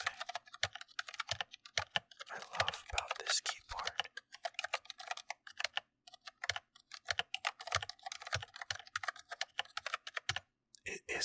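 Rapid, uneven typing on a computer keyboard, keys clicking close up in bursts with short pauses, while a person talks quietly over it.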